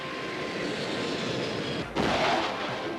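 An F-86 Sabre jet roars steadily at close range during takeoff, a dense continuous engine rush that surges louder near the end with a sharp change in tone.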